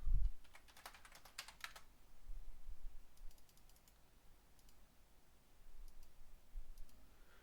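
Bursts of typing on a computer keyboard while a password is entered for a HackTheBox pwn challenge, quiet clustered key clicks at the start and sparser taps later, close and alone with no talk.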